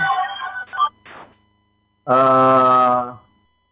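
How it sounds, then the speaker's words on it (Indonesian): A telephone rings for an incoming call, one loud, tonal ring lasting about a second, following a short burst of talk and a pause. "Telepon masuk."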